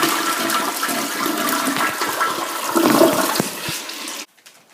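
A household toilet flushes close by, a steady rushing, gurgling surge of water lasting about four seconds before cutting off abruptly into quiet.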